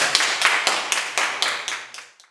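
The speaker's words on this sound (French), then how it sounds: "Donc, on peut applaudir pour" Audience applause during a French-language television cooking competition, heard as a burst of crisp hand claps with distinct sharp accents that thin out and fade over about two seconds.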